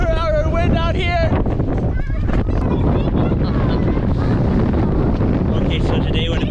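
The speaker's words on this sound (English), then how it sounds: "the wind was just hammering us" Strong coastal wind roars across the microphone at Giant's Causeway on the Irish coast, a loud continuous buffeting rumble, with a brief voice heard at the start.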